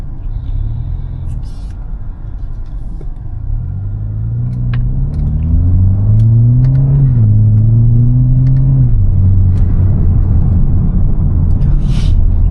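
A BMW G20 330i with an aftermarket intake drones loudly under load from inside the car, its engine note rising and falling through the revs over a steady road rumble.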